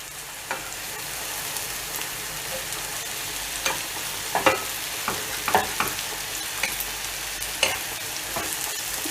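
Plantain frying in hot oil for scrambled eggs, a quiet, steady hiss broken by scattered sharp pops and crackles, with no talking.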